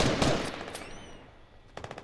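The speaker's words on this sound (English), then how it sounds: "someone shooting at me?" Gunfire in the video game Fortnite rattles in a burst of rapid shots, fades to a quiet gap, then returns as a short cluster of sharp shots.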